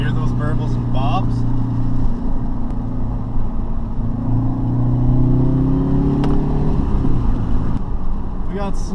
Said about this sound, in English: Hear those burbles and bobs?